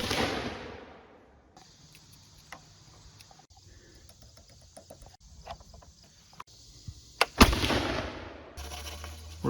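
Wall gun firing a 300-grain black powder blank charge outdoors, preceded by quiet handling and faint insect chirps, then one booming blast that echoes and decays across the surroundings.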